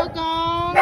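A puppy gives a short, close whimpering yip, a single high tonal whine lasting under a second.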